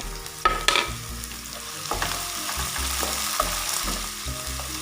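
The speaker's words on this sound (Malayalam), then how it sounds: "സവോള ചെറുതായിട്ട് മൂത്ത് വരുമ്പോൾ നമുക്കതിലേക്ക് ഒരു കാപ്സിക്കം ഇതേപോലെ കുഞ്ഞായിട്ട് ഒന്ന് അരിഞ്ഞ് ചേർത്ത് കൊടുക്കാം" Chopped onion and capsicum sizzle in a pan while a spoon scrapes and clatters through them in repeated strokes, with faint background music underneath.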